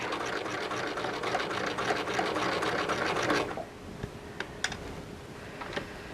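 A sewing machine stitches a separating zipper at a slow, steady pace, whirring loudly for a few seconds before stopping abruptly, followed by quiet fabric handling and a few light clicks.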